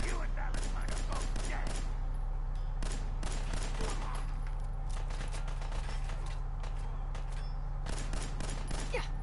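Gunfire in the video game Fallout 4: bursts of sharp shots, some rapid and clustered, some single, over a steady low hum, with a voice talking at times.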